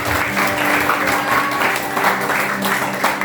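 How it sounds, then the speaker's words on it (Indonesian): A church congregation at a youth praise and worship service applauds, a dense and steady wash of clapping from many hands that fills the room throughout. "Tepuk tangan buat Tuhan Yesus."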